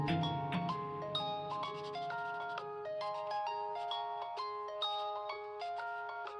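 A phone plays a bright, melodic ringtone, repeated chiming tones ringing out steadily and clearly on their own, with no talk over it.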